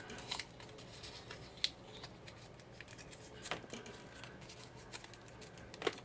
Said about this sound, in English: we're gonna cut the fourth part now.